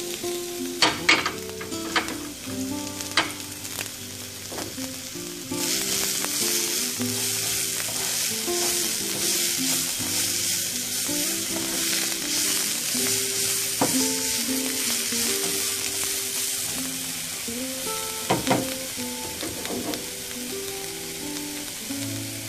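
Onion and garlic frying in a little olive or coconut oil in a pan, a steady loud sizzle that swells partway through, with clinks and scrapes of a spoon stirring nearby.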